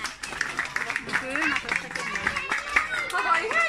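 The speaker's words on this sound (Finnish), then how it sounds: "Antakaa siis pienet aplodit vielä" Scattered light clapping from a small audience at a Moomin World stage show, heard under a performer's talking and crowd chatter.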